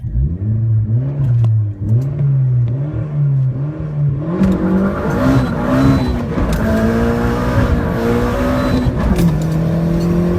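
A car engine fitted with a small turbo revs hard again and again, its pitch climbing and dropping in quick loud surges, close up and with no talk.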